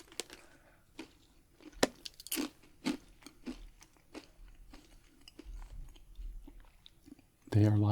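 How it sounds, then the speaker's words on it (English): Crunchy pepper-flavored puff pastries being bitten and chewed up close: a series of crisp crunches and softer chewing clicks, irregular and fairly quiet, with a louder rustle at the end. "They have a nice crunch to them."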